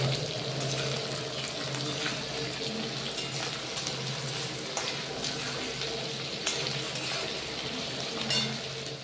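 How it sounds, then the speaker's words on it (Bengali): Sliced onions fry in a pan of oil in a home kitchen, giving a steady, fairly loud hiss and crackle that runs without a break and with no talking. "এরপর পেঁয়াজটা ভেজে নেব।"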